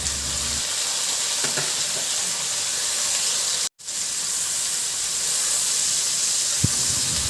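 Onion and tomato sauté in a pan with a steady, loud sizzle that fills the clip. There is a brief dropout near the middle and a single small clink near the end, and no voices are heard.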